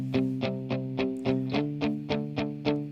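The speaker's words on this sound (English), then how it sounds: "what you're really hearing here is the same part played twice" Distorted electric guitar chugs out a steady rhythmic pattern of repeated, evenly spaced strummed chords, the same part played twice and hard panned, thick and layered, with no voices.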